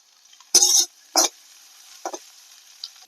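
Chicken pieces frying in a pan for a chilli chicken recipe, heard as short, loud sizzling bursts that come and go as the pan is stirred, with near-silence between them.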